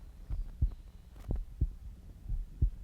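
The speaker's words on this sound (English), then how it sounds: "There's the heartbeat." Slow, regular heartbeat thuds in an experimental song, deep double-pulsed throbs repeating about once per second, close and fairly quiet with a low hum beneath and no voices.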